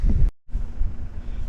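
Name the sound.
strong wind noise on microphone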